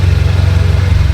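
A Kia car engine runs during a test drive, a loud, close, low rumbling hum with a steady pulsing throb.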